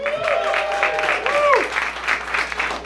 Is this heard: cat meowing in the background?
no